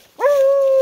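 A dog out in the bush near a dug hole gives a single sharp, loud, drawn-out yelp that holds a steady pitch, close by and alone.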